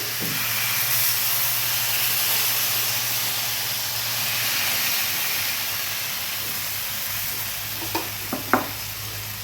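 Mixed vegetable ghavan batter sizzles on a greased hot pan, a loud, continuous frying hiss close by, broken near the end by a few quick clinks of a utensil.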